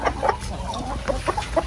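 Several chickens cluck softly in short, scattered calls, fairly close by, over a low background hum, in General Santos City, Philippines.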